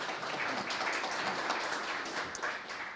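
A short burst of steady audience clapping, moderately loud and continuous throughout, with no voices standing out.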